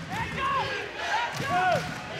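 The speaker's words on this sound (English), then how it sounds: "And the crowd going wild here now in Loughborough" A loud basketball crowd in a Loughborough arena roars and chants, with rising and falling vocal swells and a few sharp shouts, no commentary over it.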